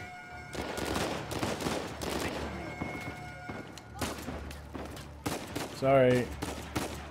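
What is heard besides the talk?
gunfire in the video game Uncharted 4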